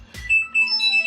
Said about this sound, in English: Oh, that's another phone call.